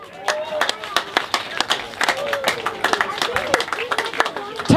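Audience at a blues show at Tooby Blues clapping and cheering for a band, a dense run of sharp claps with scattered shouts, close and lively throughout with no talk over it.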